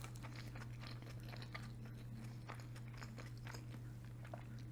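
Close, quiet chewing and biting of mango and other food during a mukbang of shrimp black bean noodles and kimchi dumplings, with soft repeated crunches and mouth sounds over a low steady hum, no talk.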